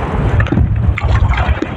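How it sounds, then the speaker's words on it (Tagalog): Strong typhoon wind batters a small fishing boat in rough seas, roaring and buffeting right at the microphone, with water sloshing underneath. "Malaki yung alon mga par at saka malakas yung hangin dahil sa bagyong mawar mga par"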